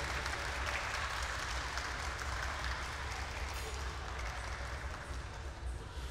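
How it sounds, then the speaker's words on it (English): A crowd at the Museum of Glass hot shop applauds the glassblowing crew, steady dense clapping filling the room for several seconds, moderately loud and without a break. "Can we give our whole crew a round of applause?"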